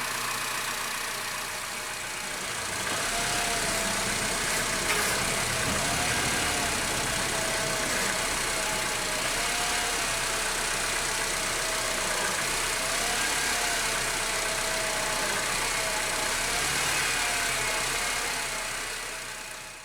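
Engine of a 2006-2011 Honda Civic idling steadily after a power steering pump replacement, a constant close hum with a faint wavering whine running throughout, no talking.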